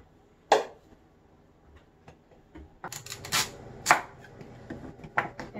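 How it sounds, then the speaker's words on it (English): A knife chopping vegetables for Chinese noodles on a cutting board, sharp crisp chops, sparse at first then quicker irregular strokes, close and quiet in between. "first, I'm gonna cut the vegetable to get ready"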